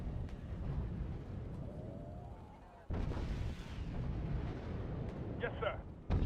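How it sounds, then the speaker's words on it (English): Grenade launchers firing in the video game Wargame: Red Dragon, with rumbling blasts and a sudden heavy boom midway, followed by sustained battle noise and sharp crackles as people talk over it. "We're seeing the grenade launchers hit us here."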